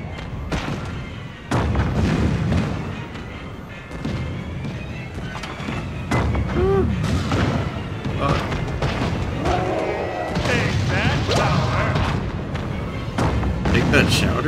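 Gunfire and booming blasts in the SpongeBob SquarePants: Creature from the Krusty Krab video game, loud and continuous over a game soundtrack, with someone talking through much of it.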